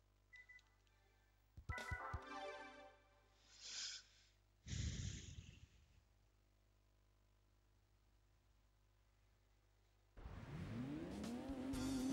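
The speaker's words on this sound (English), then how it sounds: "I was expecting that same kind of sound you get from every car you fit mufflers into." A car fitted with mufflers revs in the racing game Gran Turismo 2, with bursts of engine roar and a squeal, a long quiet gap, and then a steady rising engine drone toward the end.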